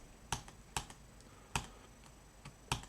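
A handful of sparse, quiet keystrokes on a computer keyboard, about five separate clicks spaced unevenly, with no talking.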